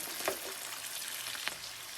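Ground pork sizzling in a frying pan as it is stirred, a constant close hiss with a couple of brief scraping strokes, no talking.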